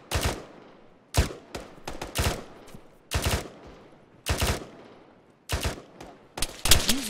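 Loud bursts of automatic gunfire suppress a sniper in the video game Spartan 2, coming in about six separate volleys with short pauses between them and no voices.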